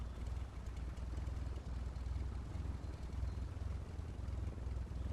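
A small bush plane's engine idles steadily on the ground after touchdown, a continuous low droning rumble that holds evenly for the whole stretch before shutdown.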